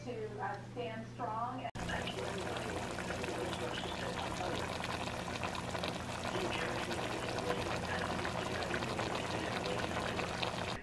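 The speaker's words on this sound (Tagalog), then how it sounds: "So, ngayon, lagyan ko siya ng konting tubig." A little water is poured into a fish dish in a home kitchen. A steady, close hiss of pouring and sizzling runs for about nine seconds after a brief spoken phrase at the start.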